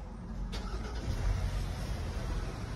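A Haval Dargo SUV's engine starts with a short crank, then settles into a low, steady idle heard from inside the cabin, with no talking over it.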